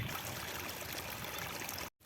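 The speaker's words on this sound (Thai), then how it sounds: "เราก็จะเห็นน้ำไหล แบบนี้นะคะ" Water rushes and trickles steadily through a leak at close range, a continuous gushing flow that briefly cuts out at the end.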